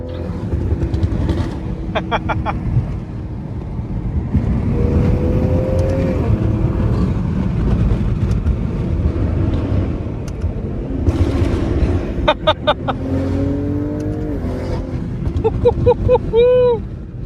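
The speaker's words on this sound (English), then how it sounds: "Oh, this burble sounds good." A tuned BMW M340i engine rumbles with a deep, throaty exhaust burble and rising revs, recorded from inside the car. Occasional crackles and pops cut through, with a voice talking over the continuous engine noise.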